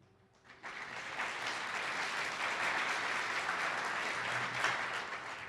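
A burst of applause from a large audience starts abruptly and holds steady as a dense wash of clapping, fairly distant and even.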